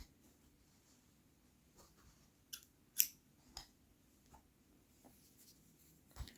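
Scissors snip through crochet thread in a few quiet, sharp cuts close by, spaced out in a faint room with soft handling noise in between.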